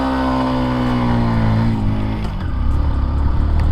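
A TVS Sport 110 motorcycle with a refined single-cylinder engine revs up and accelerates, its loud, steady note rising in pitch before settling into a rougher, lower drone as it pulls away.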